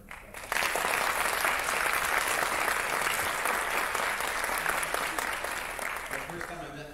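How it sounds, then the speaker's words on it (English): An audience at a state speech and debate awards ceremony bursts into loud, sustained applause for a district coach of the year, dense clapping holding steady for several seconds before slowly thinning. "Let's go ahead and give her a round of applause."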